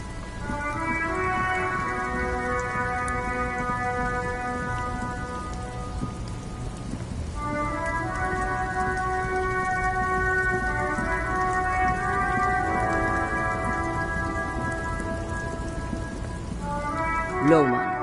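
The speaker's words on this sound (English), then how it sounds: "Stuck in the rain in a traffic jam" Steady rain falls in the game Disco Elysium, hissing without a break. A layered tonal hum runs underneath it, and a low rumble comes and goes.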